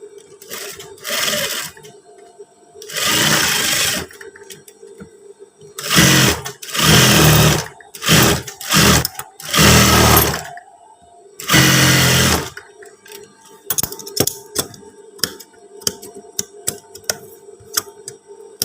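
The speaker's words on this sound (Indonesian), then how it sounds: "Sekarang kita jahit yang bagian satunya" A sewing machine sews a trouser pocket on long trousers, running in repeated close, loud bursts separated by pauses, followed by light clicking and ticking of handling between runs.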